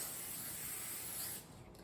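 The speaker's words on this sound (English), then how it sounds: "So now we're gonna spray our pans and start laying the sweet potatoes out." Cooking spray hisses onto baking pans in a single steady, close spray lasting over a second, then cuts off into quieter handling noise.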